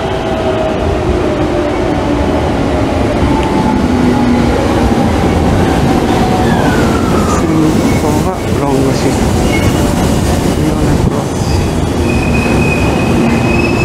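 A Sanyo Electric Railway 5000 series limited express pulls into Sanyo Akashi Station's platform 3, its steady wheel rumble and rising squeal filling the scene while station announcements and faint voices sound underneath.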